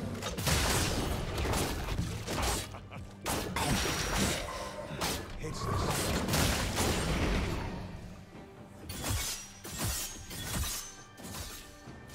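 Turret being destroyed in League of Legends during a Gangplank versus Irelia top-lane match, with heavy crashing and shattering impacts over continuous dense combat effects, loud and close, with an announcer voice over it.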